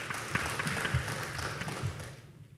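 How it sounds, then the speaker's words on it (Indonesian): Applause at an Indonesian stock exchange listing ceremony for two newly listed companies, a steady wash of many hands clapping, fairly faint and distant, tapering off at the end. "Mari kita berikan aplaus kepada kedua perseroan"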